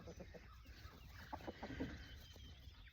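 Barred Rock and Americana hens clucking in a backyard flock on a morning homestead, a cluster of short, moderately close clucks over a steady outdoor hiss.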